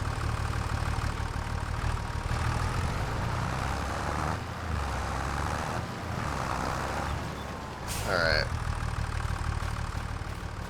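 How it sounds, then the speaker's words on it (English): Tractor engine idling in the video game Farming Simulator 25, a steady low mechanical hum running throughout, with someone talking briefly over it and a short higher whine near the end. "So if I hop back in this tractor"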